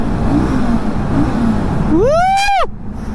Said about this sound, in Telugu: ఈ టన్నల్ మన బండి ఒకసారి రేసింగ్ చేద్దాము, రీ అందాము, సౌండ్ ఎట్లా వస్తుందో చూద్దాము